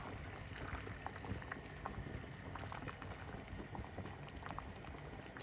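Spaghetti boiling in a pot of salted water with a little oil, a steady close bubbling and gurgling that runs unbroken, with no talking.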